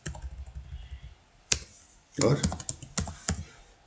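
Typing names on a computer keyboard in MS Word, a lone keystroke followed by a quick run of close clicking keys, with someone speaking Hindi at the start.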